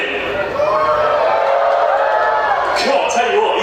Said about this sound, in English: Give me a cheer if you think Axel in the Volvo should win.